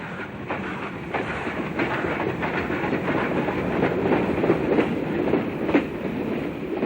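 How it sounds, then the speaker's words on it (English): An articulated Mallet steam locomotive hauls a train on a Java railway in 1974, giving a steady rumbling roll with rhythmic clickety-clack wheel beats. It sounds moderately close and continuous, and no voices are heard. "the articulated Mallet type, the most common type being these CC50 Class 2660s, designed and built by Werkspoor in Amsterdam in 1927"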